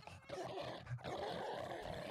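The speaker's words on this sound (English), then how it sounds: "This dog chewed me a few times, bit me a few times, and nothing." A zombie dog attacks in the video game 7 Days to Die, snarling and barking in short, rough bursts over a busy, noisy game background.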